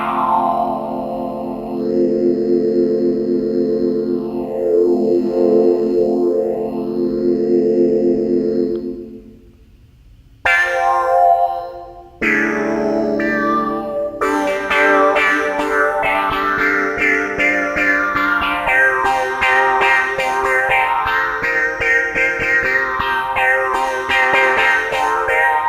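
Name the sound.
phaser effect on Synthstrom Deluge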